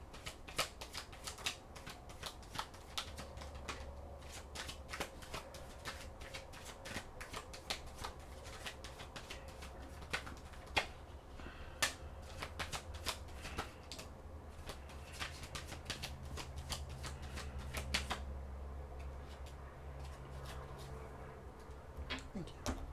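Tarot cards shuffled close by, a steady flurry of soft riffling and sharp card taps continuing without a break for a long stretch.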